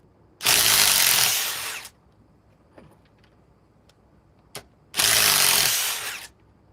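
Ryobi power drill working screws out of wood, two loud sustained whirring bursts of about one and a half seconds each, separated by a quiet gap with a faint click.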